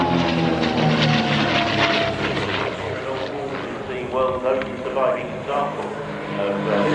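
A propeller aircraft on final approach at the Shuttleworth Heritage Air Show gives a steady, droning engine hum, with an announcer talking over it throughout.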